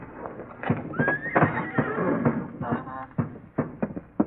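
Horses in barn stalls whinny and neigh as a radio drama sound effect, with a rising whinny standing out over repeated hoof thumps and stamping in a steady, close, moderately loud mix.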